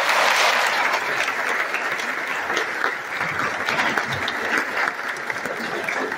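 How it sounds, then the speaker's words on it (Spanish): A church congregation applauds during a Mass and temple blessing in the village of Los Rivas, producing steady, dense clapping that fills the space throughout. "Le damos un aplauso."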